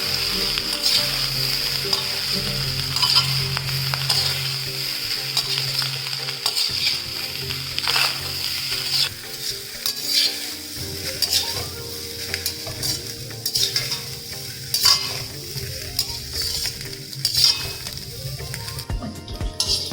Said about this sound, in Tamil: இப்போ அடுப்பை நல்லா ஹை ஃப்ளேமில் வச்சுட்டு நல்லா கிண்ட வேண்டியதான்